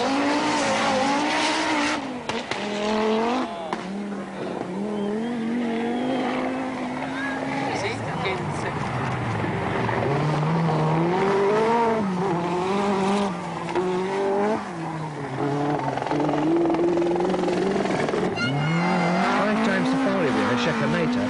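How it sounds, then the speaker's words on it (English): Rally cars, including a Peugeot, racing a stage at the 1985 Acropolis Rally, engines revving and rising and falling in pitch throughout, loud and continuous, with commentary spoken over the top. "Blomqvist rushes into sight, desperately trying to haul in Salonen's Peugeot"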